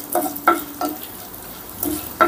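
Whole spices such as peppercorns and cinnamon with coriander seeds frying in hot oil, a steady soft sizzle broken by several sharp stirring scrapes of the spoon in the pan, close by, with no talking.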